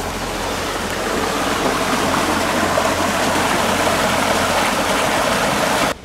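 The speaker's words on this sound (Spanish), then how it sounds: "Yo escuchaba un ruido como agua. Es un río por acá" A river in Villa de Soto, Córdoba, Argentina, flowing with a continuous, full rushing and churning of water, loud and close and steady from start to finish before cutting off abruptly.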